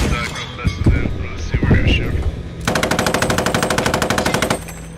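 Machine gun fire in the video game Post Scriptum arrives as a rapid, even burst of about twenty close, loud shots lasting two seconds, preceded by muffled thumps and rumbling, with a voice briefly audible underneath.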